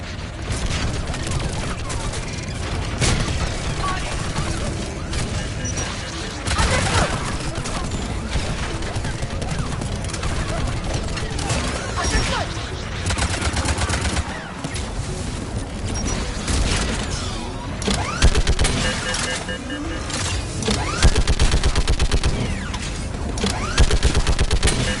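Turret gunfire in Mass Effect Legendary Edition on Rannoch, heard as sustained loud bursts of rapid shots and booms lasting the whole stretch, with occasional heavier impacts and brief voices mixed in.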